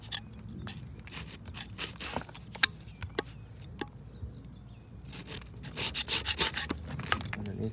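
A dirty blower fan assembly on an MCI bus is scrubbed clean, giving irregular rubbing and scraping strokes with brief knocks, growing into a rapid rhythmic scrubbing burst near the end.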